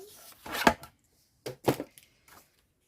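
Paper being cut close to the edge for a scrapbook album, a few crisp snipping strokes in two short clusters, close and fairly clear against quiet.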